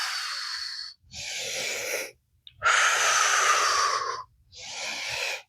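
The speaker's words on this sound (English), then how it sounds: "Breathe in all the way and blow out." Deep yoga breaths drawn in and blown out during a kneeling session, four long airy breaths separated by short pauses, close and clear with no talking.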